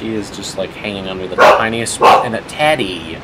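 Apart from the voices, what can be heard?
pet dogs barking in the room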